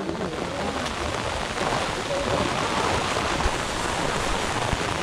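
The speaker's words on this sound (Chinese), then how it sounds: "好大雨啊！" Heavy rain pours steadily onto a hiking trail in Hong Kong's hills near Shing Mun Reservoir, a dense, continuous hiss that fills the whole scene at close range with no breaks.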